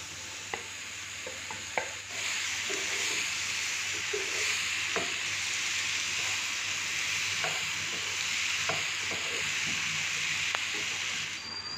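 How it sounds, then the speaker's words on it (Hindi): Chopped tomatoes hit a pan of frying onion and garlic for homemade pan pizza, giving a steady low sizzle and hiss with scattered stirring clicks and scrapes throughout, fairly quiet and with no talk. "अब हम इसमें कटे हुए टमाटर डाल देंगे।"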